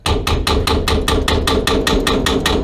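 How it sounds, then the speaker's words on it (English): Rapid, evenly spaced metallic whacks, about a dozen in quick succession, ring out close and loud as a hammer strikes a plumbing pipe fitting repeatedly to loosen built-up crud. "Just give them a little whack, and that usually shocks any sort of crud in the thing"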